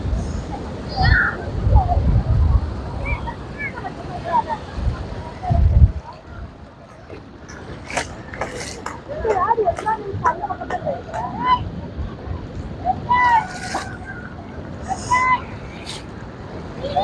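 At Paraikal beach near Kanyakumari, river-like water pours into the sea and surf washes in, a loud rushing roar for the first few seconds that then fades beneath people talking and scattered nearby sounds.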